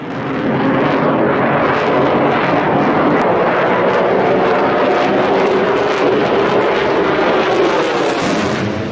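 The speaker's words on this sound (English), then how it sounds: "Take a look at this SU-57 flying near an airport in Zhukovsky." A Sukhoi Su-57 fighter jet flies low near an airport in Zhukovsky, a loud, steady broadband jet roar that holds without a break for about nine seconds, with no voices over it.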